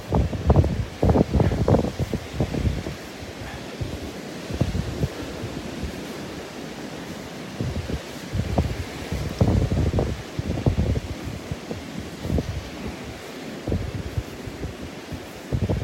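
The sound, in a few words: wind blowing on a beach in North Naples, Florida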